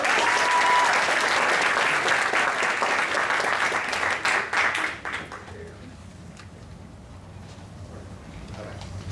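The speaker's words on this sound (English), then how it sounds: "Let's give him a round of applause." Crowd at a military awards ceremony applauding a colonel after he presents awards: steady, full clapping for about five seconds that then fades into a hushed room with soft background noise.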